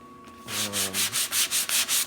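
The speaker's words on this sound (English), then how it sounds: "we're going to sand it and see what happens" Rhythmic sanding strokes on plastic rasp back and forth up close, about seven even passes over a steady hum, with no voices.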